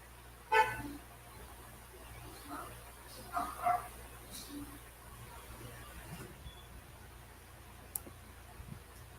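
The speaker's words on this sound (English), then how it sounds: "as you hear the honking" Car horns give brief toots and honks in the Philippines during a weather warning. The horns come as a few scattered short bursts against a low traffic hum, with a dog-like yip among them.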